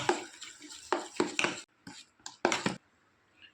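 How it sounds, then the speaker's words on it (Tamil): A spoon beats white pumpkin dosa batter mixed with wheat flour in a bowl, a few close wet scraping and slapping strokes in quick bursts, then quiet. "இது கூடவே அரை கப் கோதுமாவை சேர்த்துக்கிறேன் க்ளம்ஸ் இல்லாமல் நல்லா பீட் பண்ணிக்கலாம்"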